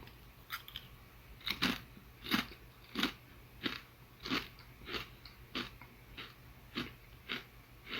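Crisp, close crunches of someone biting and chewing a flavored potato chip, about a dozen sharp bites spaced roughly half a second apart, each a brittle crackle against a quiet background.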